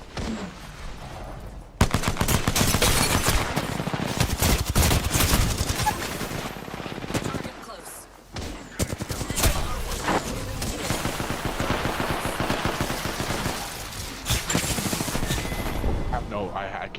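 Video game gunfire in a console ranked match, loud rapid automatic bursts almost nonstop with brief pauses, voices talking over the shooting.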